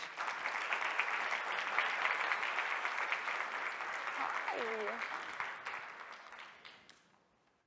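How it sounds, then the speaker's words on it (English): A seated audience applauds guests walking onto a stage, a dense, steady wash of clapping that holds for several seconds and then fades out, while a brief spoken greeting cuts in near the end. "So please, with a round of applause, welcome them to my stage."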